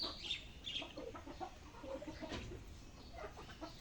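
Chickens being let out of their coop in the morning cluck and squawk softly and continuously, fairly close.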